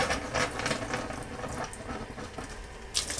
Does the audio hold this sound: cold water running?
yes